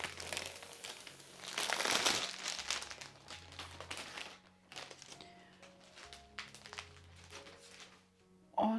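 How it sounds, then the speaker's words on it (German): A plastic bag holding a diamond painting kit crinkles and rustles close up in a long burst of bright, crackling handling that comes in waves and fades to softer rustles, with no one speaking. "es ist nochmal in einer schönen Plastiktüte."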